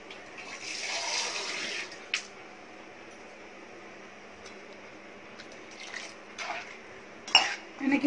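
Water trickles and splashes softly into a pot of okra tamarind curry, a low continuous pouring with a few small clinks and splashes, fairly quiet and close.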